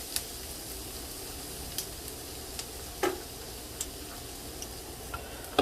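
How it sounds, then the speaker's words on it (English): Garlic sautéing in a pan for broccoli, a steady soft sizzle running throughout with occasional light clicks and ticks of stirring, close and alone without talk. "Then I'm going to add the garlic. Then I saute that."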